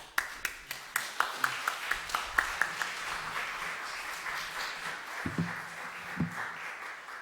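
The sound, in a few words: welcoming applause from congregation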